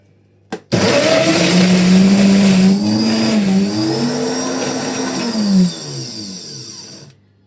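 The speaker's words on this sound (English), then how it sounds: "And now I'm just going to put it in the blender and switch it on." A kitchen blender with an arancini seasoning mixture inside starts with a sharp click, then a loud motor whine that shifts pitch as the blades churn, easing off and stopping after about six seconds.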